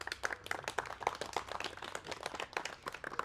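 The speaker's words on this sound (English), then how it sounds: "please make some applause for them" Scattered clapping from a small tech meetup audience thanking an event sponsor, quiet and somewhat distant, with irregular individual claps rather than a dense roar.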